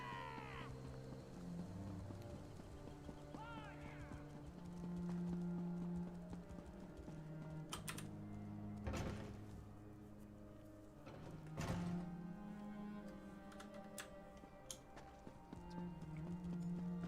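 Horse hooves clip-clopping at a steady walking rhythm in the video game Elder Scrolls Online, quiet and close, with soft background game music and occasional sharp thumps.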